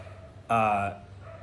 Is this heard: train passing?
no